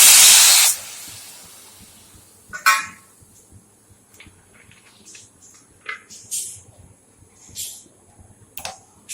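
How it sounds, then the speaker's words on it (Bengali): Water hits a hot wok in a sharp, loud burst of hissing steam that dies away within a second, followed by scattered faint ticks and clinks from the kitchen. "কড়াই দিয়ে দেবো একটু জল"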